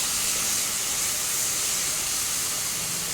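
A spice paste sizzles in a pan after a splash of water, giving a loud, dense, continuous steamy hiss throughout.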